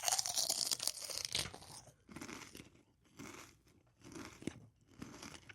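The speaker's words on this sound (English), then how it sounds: "That is one crunchy chip." Close, loud crunching of a kettle-cooked potato chip, Middlesworth brand, with a sharp burst of bites followed by several rhythmic chewing crunches in quick succession.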